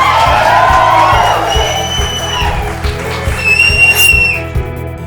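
A studio audience on a Telugu talk show with Dr. Rajashekhar cheers loudly, with whistles, whoops and shouts over a steady crowd roar that fades slightly toward the end.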